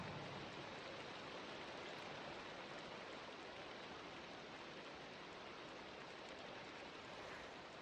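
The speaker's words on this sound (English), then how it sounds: "I want to get rid of this rain if I can." Steady rain falls in Project Architect 2, a dense even hiss of broadband patter that holds constant and fairly soft throughout with no talk.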